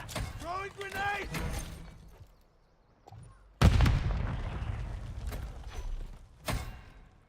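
A frag grenade goes off in the Call of Duty Warzone Resurgence shooter with a loud, sudden blast partway through, followed by a rumbling tail, after game voice callouts and scattered gunfire.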